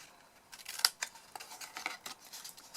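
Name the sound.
cutting card with scissors for a box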